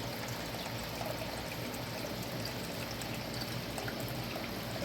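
A clear, shallow creek flows steadily nearby, a constant close rushing and pouring of water with no voices over it.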